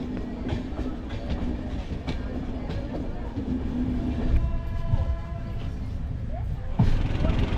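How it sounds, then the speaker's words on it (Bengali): A train rumbles steadily as it pulls into Puri railway station, with a low continuous roll, a few brief clanks and a drawn-out metallic squeal near the end, and muffled voices faintly in the background. "আমাদের ট্রেন এখন পুরী স্টেশনে ঢুকছে"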